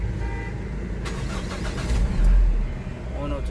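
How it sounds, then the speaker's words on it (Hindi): The diesel engine of a Mahindra Bolero pickup cranks and catches, rising into a low steady idle heard from close by inside the cabin, with someone speaking over it. "मैं आपको स्टार्ट करके दिखा देता हूँ केबिन नॉइस कैसी आती है इसके अंदर"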